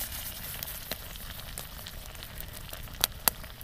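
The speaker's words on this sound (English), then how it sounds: "I would call that a pretty vigorous boil." Water in a steel canteen boils hard at a rainy campsite, giving a faint steady hiss and sizzle with a few sharp pops near the end.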